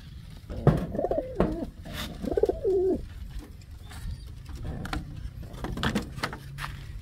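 Pigeons in a homemade nest with a growing chick give soft, low cooing calls in a few rolling phrases, close by. Light handling clicks and faint rustles sound in the background.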